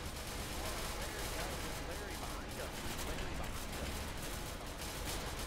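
Sustained gunfire during a chaotic friendly-fire firefight in the video game SCP: Secret Laboratory, a dense, continuous rattle of shots lasting throughout, with voices underneath.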